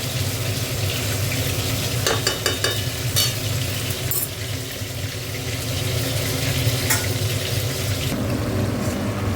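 Raw aar fish curry cooks down in a pan, a constant loud sizzle broken by scraping strokes of a spoon stirring against the metal, with no talking.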